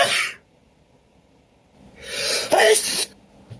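A man sneezes near the microphone: one brief burst at the start, then after a quiet pause a rising inhale that breaks into a loud, full sneeze, close and alone in a quiet room.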